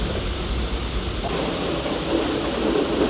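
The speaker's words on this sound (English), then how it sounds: "Looks like the rains have come now, so we are going to seek shelter inside." Steady rain hisses across the open deck of the Island Princess cruise ship during a Panama Canal transit, a dense, even wash of falling water with no distinct pauses.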